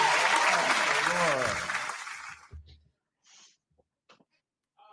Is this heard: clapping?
yes